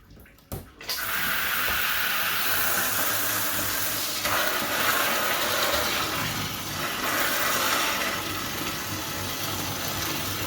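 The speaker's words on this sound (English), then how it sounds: "the first thing we're going to do is fill the bucket up with water" Water running from a tap into a bucket for hydroponic nutrient mixing, a steady loud rushing pour after a brief clunk at the start, continuing unbroken for about ten seconds.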